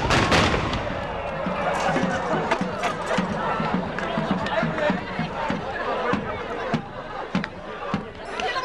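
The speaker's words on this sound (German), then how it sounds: "Erst donnerten die Vorderlader über den Markt" Muzzle-loading guns fire across the market square at a historical town festival, with repeated sharp blasts and cracks over a busy crowd and loud voices throughout.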